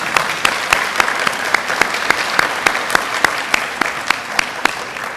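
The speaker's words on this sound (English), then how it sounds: "Let's give our recipients one more warm round of applause." Audience at a high school Seal of Biliteracy ceremony applauding recipients, a steady dense clapping with sharp individual claps popping out in a fairly regular rhythm, close and loud.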